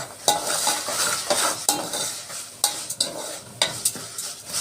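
Washed, dried rice is tipped into a hot pan with reddened vermicelli and stirred, giving a steady sizzle broken by repeated sharp scrapes and clinks of a utensil against the pan, close and fairly loud, with no talking.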